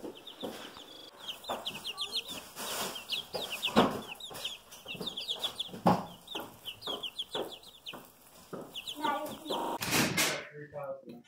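Young chicks kept in a garage chirp and peep in quick repeated bursts throughout, close and fairly loud, with some clucking mixed in and a sharp knock or door-like thud near the end.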